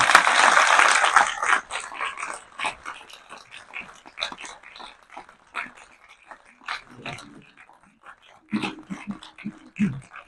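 An audience claps loudly to welcome a singer at a Pakistani American qawwali and poetry evening, strong at first and then fading into scattered claps and faint voices.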